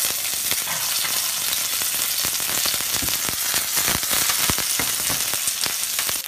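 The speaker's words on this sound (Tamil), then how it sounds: "ஒரு பேனில் கொஞ்சம் எண்ணெய் ஊற்றி லேசாக கடுகு உளுத்தம் பருப்பு தாளிச்சிட்டாங்க" Mustard seeds and urad dal tempering in hot oil in a pan for a South Indian meal, a loud dense crackling sizzle with rapid popping throughout, close and steady.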